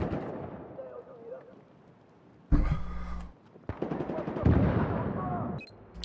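Shooter-game gunfire comes in sharp loud bursts of rapid automatic shots separated by quieter stretches, with a voice talking at the start.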